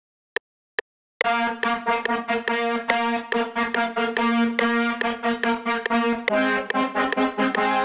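A DX7 trumpet synth preset plays a brass melody in steady rhythmic stabs, loud and close, after two brief isolated notes; no talking.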